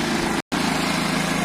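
A Piaggio Fly 50cc scooter engine runs steadily close by with a buzzing, rapid two-stroke putter, briefly cut out by a short gap before resuming at the same even pace.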